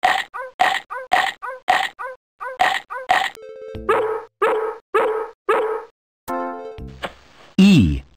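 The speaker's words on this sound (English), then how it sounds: "D for dog." In the JumpStart Kindergarten game a dog gives a rapid run of loud, close barks in steady rhythm, followed by a few more barks and electronic game tones.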